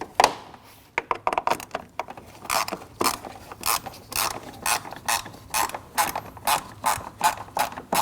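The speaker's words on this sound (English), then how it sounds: "Using a T25 bit, we're going to remove the screw for that trim." A T25 bit backs out a trim screw on a Volkswagen Passat during radiator replacement, giving rapid ratcheting clicks and creaky mechanical turning close up, in uneven bursts throughout.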